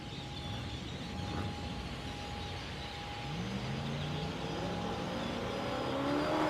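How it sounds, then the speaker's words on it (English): A drag race car spins its tires in the right lane at The Strip at Las Vegas Motor Speedway during a street car event, a steady roaring engine whine climbing in pitch over crowd and track ambience, moderately distant. "Spinning the tires over there in the right lane"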